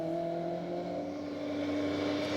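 A 1988 BMW M3 rally car drives with a steady, droning engine note. It holds an even pitch and loudness throughout, close and continuous, with no voices.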